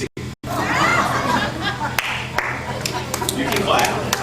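Audience clapping and laughter at a comedy routine, a dense crowd texture under a voice, with a few sharper individual claps standing out near the end.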